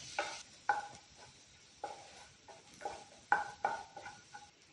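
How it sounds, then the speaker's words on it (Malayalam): Chopped onion sautéing in a pan until brown, stirred with a series of soft scraping strokes over a low sizzle, each stroke brief and spaced about half a second to a second apart. "ബ്രൗൺ കളർ ആകുന്നതിന് വരെ വഴറ്റിയെടുക്കുക."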